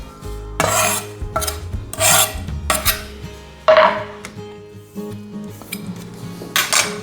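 Lemon being zested on a metal grater: repeated rasping scrapes in uneven strokes, close and fairly loud, with faint clinks of kitchenware and no talking.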